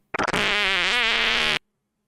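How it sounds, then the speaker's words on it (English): A loud, buzzy fart sound effect, opening with a few quick sputters and then one sustained, wavering tone for over a second before cutting off abruptly into silence. "Why is there a fart sound at the start of the segment?"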